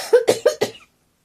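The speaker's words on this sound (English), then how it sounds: "Sorry about my cough." Four sharp coughs from one person come in quick succession, close and fairly loud, then silence.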